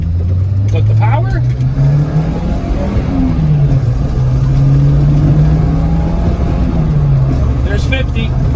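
A VW Rabbit Pickup (Caddy) engine pulls steadily while driving at road speed, a loud continuous drone rising and falling in pitch through the gears, heard from inside the cab.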